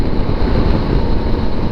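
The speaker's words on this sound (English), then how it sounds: "the only sound I'm hearing is that wind" Wind rushing past a moving motorcycle, a loud continuous close buffeting roar filling the whole moment with no voice over it.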